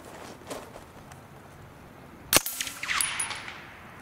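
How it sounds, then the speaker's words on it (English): A 9mm Ingram MAC-10, a blued police model, fires a single sharp, fairly quiet shot at a can target, followed by a brief ringing ricochet off the target. "Wow, listen to that ricochet."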